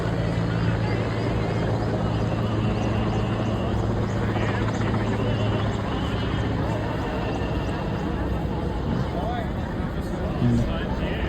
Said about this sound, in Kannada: ಟೋಟಲ್ 4 ಹೆಲಿಕಾಪ್ಟರ್ ಬಂದಿದೆ